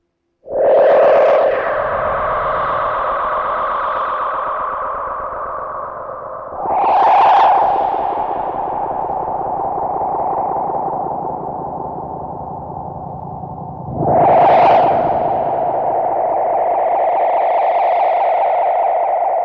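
A Moog Matriarch synthesizer runs through delay with stereo filter panning: three long swelling tones, each opening with a bright sweep and sustaining with echoing, distorted, spacey texture, loud and with no voice.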